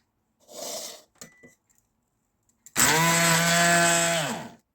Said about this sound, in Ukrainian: І все збиваю блендером.